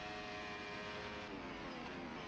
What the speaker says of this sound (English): These engines are going to be screaming when you get to the top of the cone.